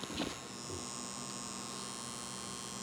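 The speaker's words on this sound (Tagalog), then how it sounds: "meron tayong maririnig na pag-ugong dito sa breaker" A DC circuit breaker under load gives a steady electrical hum with a faint buzzing hiss, running continuously and unchanging, close up, after a short knock at the start.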